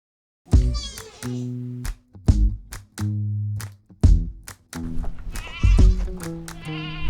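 Goats bleat loudly and close by, several overlapping wavering cries in quick succession with brief gaps between them.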